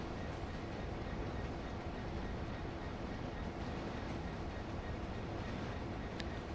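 A train braking in the Train Sim World Great Western Express game, a steady low rumble and hiss of rolling stock slowing, continuous and even, with no talk.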